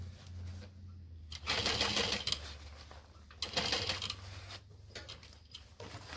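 A Juki sewing machine stitching a bucket bag, its motor running in two bursts of steady mechanical whirring and ticking, close and fairly quiet, with brief pauses between.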